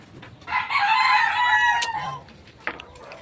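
A rooster crows loudly among a flock of chickens at a farm, one long harmonic call rising and holding before trailing off, with a brief sharp cluck near the end.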